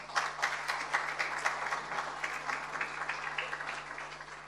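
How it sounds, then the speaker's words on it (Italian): Audience in a hall applauds to welcome the vice prefect at the 130th anniversary of the Santa Ninfa workers' society; steady, dense clapping fills the whole stretch at moderate level with no voices over it. "le diamo il benvenuto anche con un applauso"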